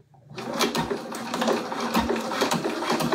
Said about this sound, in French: Et donc je prolonge ma couture tranquille.